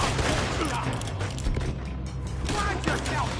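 Rapid gunfire crackles through a video game shootout in a hunting setting, dense and continuous with shots overlapping a busy background of effects, while voices shout over the action.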